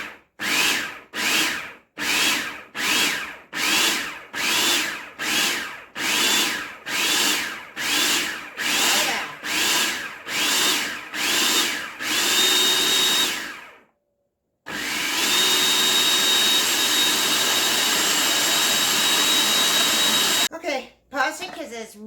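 A food processor pulses fresh pumpkin into puree, about fourteen short, loud whirring bursts in steady rhythm, then one long continuous run after a brief pause, ending in a few choppy bursts.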